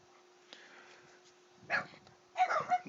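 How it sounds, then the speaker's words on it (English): Dogs bark and yip excitedly in short bursts, with two louder clusters near the end, over a faint steady hum indoors. "look at my dogs are getting on this. They're excited."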